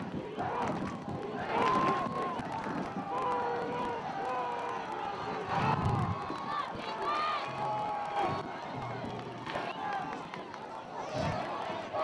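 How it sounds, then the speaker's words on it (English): A football crowd at a high school Thanksgiving Day game roars steadily in the stands, with swells of cheering and occasional thumps. A commentator's voice is also heard over it. "And the crowd really getting into it now."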